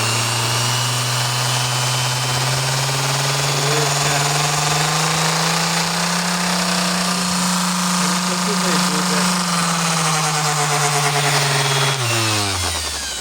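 A Vitals Es 2224DWc vibratory sander runs loudly and steadily with a strong low hum and buzzing vibration, then winds down near the end.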